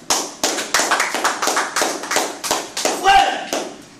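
A church congregation claps together in a steady, rhythmic beat, roughly two claps per second, loud and close, with voices calling out faintly underneath.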